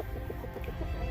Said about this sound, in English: These are our laying hens.